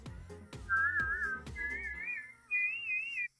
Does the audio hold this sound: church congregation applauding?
no